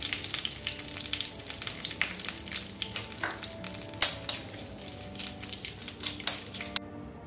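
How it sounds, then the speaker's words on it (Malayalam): Mustard seeds, halved dried red chillies and curry leaves sizzle in hot oil in a small pan, a close, continuous frying hiss broken by sharp crackling pops and a few metallic clinks of a spoon. "കടുക് പൊട്ടിയിട്ടുണ്ട്."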